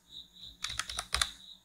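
Someone types a web address on a computer keyboard: a quick, soft flurry of key clicks in a quiet room, with a short pause in the middle before a final burst.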